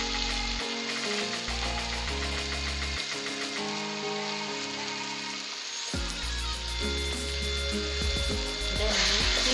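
Dodo greens tipped into meat frying in a pan in an African village kitchen, with a steady, close sizzle and crackle running throughout and shifting in texture as the leaves hit the hot fat.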